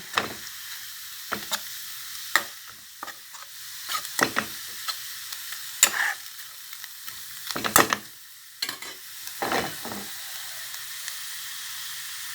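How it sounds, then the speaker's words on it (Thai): Minced pork stir-frying in a dry pan without oil for pad krapow, a soft low sizzle broken by repeated sharp scraping strokes of a spatula at an uneven rhythm, close and fairly quiet. "อย่าลืม ลวนหมูให้สุกก่อน"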